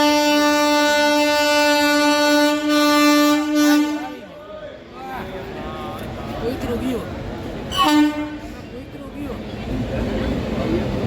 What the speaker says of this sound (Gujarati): બેસી ગયા છીએ ટ્રેનમાં. હવે અહીંથી હાલતા થઈ ગયા છીએ